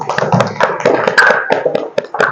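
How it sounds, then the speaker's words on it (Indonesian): Audience applause breaks out in a classroom after a group presentation, a dense burst of hand claps and taps lasting a couple of seconds, loud and fairly close with no talking over it. "Kita berikan aplaus."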